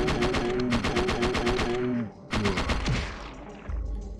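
Rapid automatic gunfire from Parasite Eve 2 rattles in two loud, close bursts, the first about two seconds long, the second shorter and trailing off into a lower rumble.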